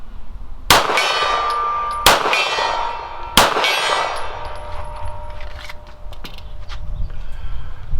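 Three sharp metallic clangs of 9mm bullets from a CZ Shadow II pistol striking a steel gong, each ringing out with a long shimmering decay, spaced about a second or more apart.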